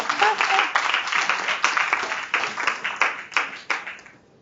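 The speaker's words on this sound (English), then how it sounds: "I should get an applause for that," Clapping in a cooking demonstration setting, a small group's brisk applause with distinct individual claps, close and fairly loud, fading out after about four seconds.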